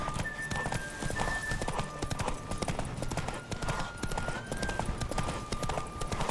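Rapid hoofbeats of a galloping horse in The Witcher 3: Wild Hunt drum steadily, with a whinny and a faint tonal background.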